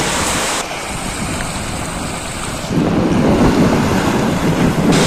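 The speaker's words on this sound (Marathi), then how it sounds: "एकदा का तुम्ही जेटीवर पोचलात की खळाळणाऱ्या लाटा तुमचं सहर्ष स्वागत करतात" Waves surge and wash against the jetty of Janjira sea fort in the monsoon, a continuous loud rush of surf mixed with gusty wind buffeting the microphone and growing stronger midway.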